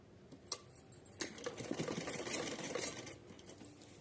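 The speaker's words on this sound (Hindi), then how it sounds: "तो चलिए इसको सिलते हैं।" A sewing machine stitches a thin folded fabric strip for a small deity dress, starting with a few clicks and then whirring in a steady rattling run before slowing, close and fairly quiet.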